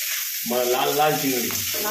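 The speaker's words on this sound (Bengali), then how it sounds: "নুন হলুদ দিয়ে ভেজে নিচ্ছি, আর বেশ শুকনো করে সুন্দর লাল লাল করে ভাজা হয়েছে।" Prawns frying in a wok with salt and turmeric, a close, loud sizzle that swells after a brief quieter start, with a tonal, whistling edge riding over the crackle.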